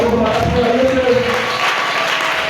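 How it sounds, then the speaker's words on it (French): A church congregation applauds and cheers in a sustained burst of clapping and crowd noise, loudest at the start and tapering slightly, with voices mixed into the din. "Est-ce que tu peux acclamer pour nous?"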